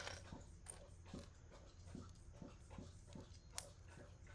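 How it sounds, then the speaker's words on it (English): Soft, rhythmic wet slurping repeats steadily, about two laps per second, close by and fairly quiet, with a low background hum. "You might hear some lapping, that's my doggy."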